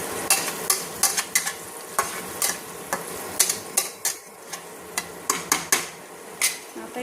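Spiced eggplant frying in oil sizzles under repeated sharp metal scrapes and clinks of a spatula against the pan, coming in quick, uneven strokes close by.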